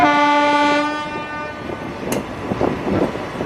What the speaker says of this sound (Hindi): ये WCM लोकोमोटिव्स हैं, सच में कुछ दिनों बाद और भी दुर्लभ हो जाएंगे।